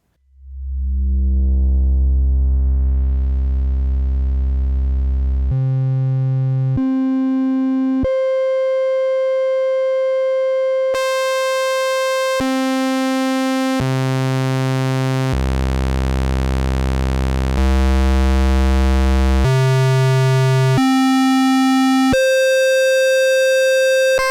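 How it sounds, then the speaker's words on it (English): Loud sustained tones from a Behringer Model 15 analog synthesizer shift through a series of held notes and oscillator waveforms, from buzzy bass drones to bright, thin pitched tones, with no talking. "With a pure analog signal path, Model 15 features dual 4 waveform oscillators, pulse width modulation, oscillator sync"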